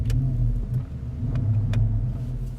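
A 2014 Porsche Panamera Turbo Executive with a 4.8-liter twin-turbo V8 rumbles with a deep, steady engine drone, pulling hard under acceleration, heard close with a few faint clicks and no talk.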